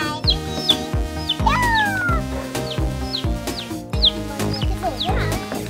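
Young chickens peep and cluck in short, high chirps while being fed during a children's chick-feeding game, over a steady, rhythmic background.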